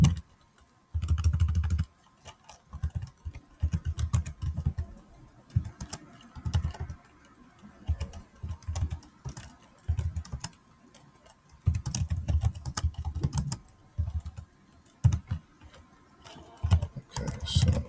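Python code being typed on a computer keyboard, heard as close, crisp bursts of rapid keystrokes separated by short pauses, with no talking.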